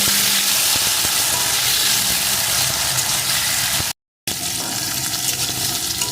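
Sweet pumpkin pieces frying in a pan for a vegetarian cauliflower-stalk dish, a continuous loud hiss and crackle with a brief gap of silence partway through.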